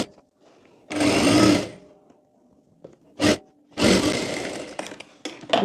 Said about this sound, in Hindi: यहाँ से सिलाई करनी है बेल्ट में